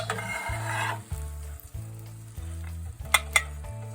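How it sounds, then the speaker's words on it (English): Eggs fry in a cast iron skillet with a soft sizzle that is strongest at first and then fades, with light clinks near the end, over a steady low tonal background. "fried eggs in a cast iron skillet"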